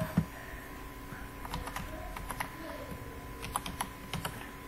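Fingers type a form name on a computer keyboard, a quiet run of close, light key clicks in irregular bursts, with no voices.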